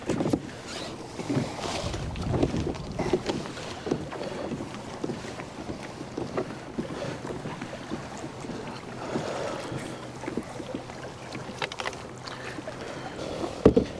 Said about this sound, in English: The wind's picking up, swells are getting really nasty